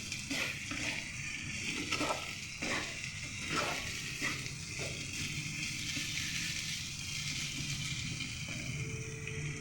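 A spoon stirs chili powder through an egg and potato fry in a hot pan, with repeated scraping strokes over a continuous sizzle, close and moderately loud.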